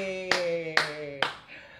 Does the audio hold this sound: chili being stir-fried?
no